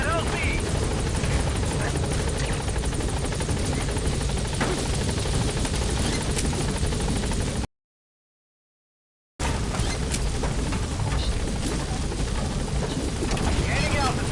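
A B-Quad support helicopter in Metal Gear Solid V arriving at a landing zone, a loud, steady rotor thump and engine roar filling the scene, broken by a brief silent gap, with radio-style voice chatter over it.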